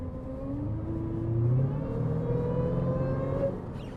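A Jeep Trackhawk's 707-horsepower engine revs up and falls back close by, with a deep rumbling tone that swells in the middle and then settles, and no one speaks over it.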